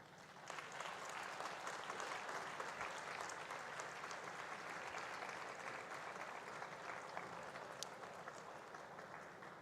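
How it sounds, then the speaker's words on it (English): Warm applause fills the hall at the IIT Madras graduation ceremony, a dense, sustained crowd clapping heard from a distance, steady for the whole stretch. "give your parents, your families, your teachers, and your mentors a warm round of applause"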